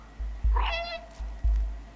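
One clear, fairly close meow from the cat in the game Stray, rising then trailing off, set against low background rumble and a few dull thumps.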